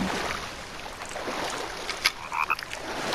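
A frog croaks in The Forest video game, heard as short clustered croaks near the end over a steady backdrop of wind and water.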